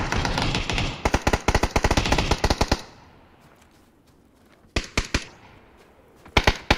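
Scorpion gun in the PUBG video game fires in loud rapid automatic bursts, then a lull, then short sharp bursts of fire, with no talk over it.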